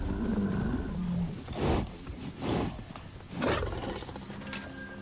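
In the Vindictus action RPG, a monstrous wolf demon boss lets out three loud, drawn-out roars over a steady background rumble of game ambience.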